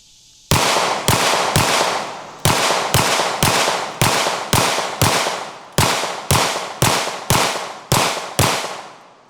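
Fifteen rapid gunshots strike a cheap Amazon body armor plate, loud sharp cracks in a steady, slightly uneven rhythm with short gaps, close and without talk.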